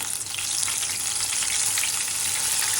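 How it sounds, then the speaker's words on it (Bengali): Loitta fish from Cox's Bazar deep frying submerged in hot oil, a dense, continuous loud sizzle and crackle, close up and unbroken throughout. "মাছটাকে এভাবে ডুবিয়ে তেলের মধ্যে দিয়ে দিব, ডুবো তেলে"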